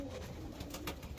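Show-breed pigeons kept as a team coo in a brief, quiet, low rolling burble, with no talk over it.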